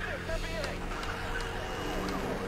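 Police sirens wail through a street race in the video game Need for Speed The Run, the wavering tones sweeping up and down over a steady roar of engines and traffic, with a voice talking faintly underneath.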